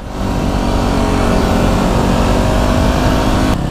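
Motorcycle and scooter engines roaring loudly and steadily while riding wheelies side by side, a dense continuous drone of revving with wind noise throughout.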